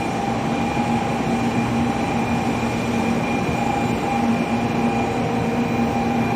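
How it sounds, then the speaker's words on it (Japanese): A Kyushu Shinkansen bullet train pulls into an end platform at Hakata Station, a loud, steady rushing roar with a faint whine running through it and no voices. "新幹線が入ってきましたね。"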